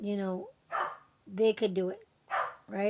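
A pet dog barks indoors in a few short bursts, fairly close, while a person talks over and between the barks.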